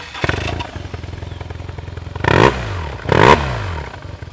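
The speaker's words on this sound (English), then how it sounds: "You be the judge, but aftermarket usually sounds a little bit better." A motorcycle fitted with an aftermarket exhaust pipe idles with a throaty burble, then gives two sharp, loud revs that rise and fall close by, with no talking.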